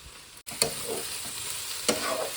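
Spring onion curry with dried shrimp frying in a pan, a steady close sizzle broken by two sharp stirring scrapes.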